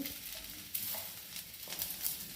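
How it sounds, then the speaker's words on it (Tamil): Grated coconut sautéing in a pan for chutney, a soft, steady sizzle with light stirring scrapes and a few brief clatters, moderately quiet and heard alone without speech. "கொஞ்சம் நல்லா வதக்கிக்குவோம்"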